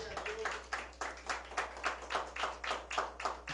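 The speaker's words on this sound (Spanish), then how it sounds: "Denle un aplauso al Señor." Rhythmic congregation clapping during a church service, steady and quick, from many hands together in a reverberant room, sustained for several seconds.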